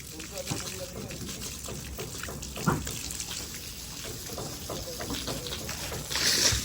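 Water runs and trickles across a sloped floor at a house construction site, a steady wash of flow under fairly continuous nearby talk, with louder splashing near the end.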